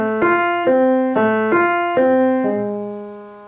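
Solo piano plays a bar of a song at full tempo, about six evenly spaced struck notes over a held low tone, ending on a sustained note that slowly fades; clear and close, no talking.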